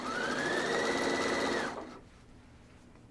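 A sewing machine stitches along an encased welt cord with matching thread and a short stitch length, whirring steadily and loudly for about a second and a half before stopping abruptly into quiet.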